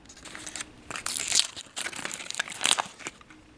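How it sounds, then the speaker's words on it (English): Foil wrapping around a 48 gram chocolate bar from a 1967 West German survival ration crinkles up close in several bright, irregular bursts, louder in the middle and near the end. "It is also wrapped in this foil."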